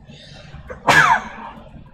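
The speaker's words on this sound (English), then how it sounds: "Pardon me on the sneeze." One sharp human sneeze bursts out in a quiet room, brief and loud, with low background hum around it.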